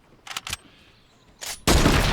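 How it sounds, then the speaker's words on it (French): No-scope sniper fire in a first-person shooter game: a couple of quick sharp cracks, then a louder shot that bursts into a sustained roaring blast. "Donc là je tire en no-scope"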